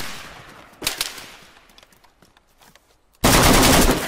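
Gunfire in the video game DayZ striking a player: a loud single shot early on, faint ambience, then a sudden dense burst of rapid automatic fire that stays loud to the end.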